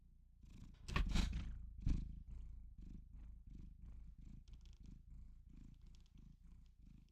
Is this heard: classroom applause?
no